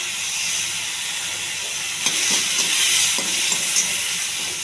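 Tomato pieces, tamarind and green chillies frying without water for a tomato putnala chutney give a steady, fairly loud hissing sizzle with a few soft stirring knocks partway through, and no talking.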